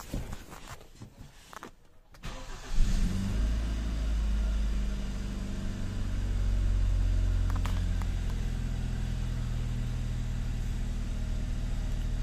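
Hyundai Sonata YF 2.0T turbo engine cranking briefly, catching, then settling into a steady low idle that swells slightly, heard close up.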